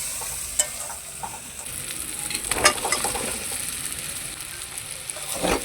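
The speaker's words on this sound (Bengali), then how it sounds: "আলুর সঙ্গে মশলাটাকে ভালো করে মিশিয়ে নেব।" Fried potatoes stirred into a sizzling spice paste that has released its oil, for vegetarian aloo dum gravy. A steady close sizzle runs throughout, with a few sharp scrape and stir clatters, and no talk.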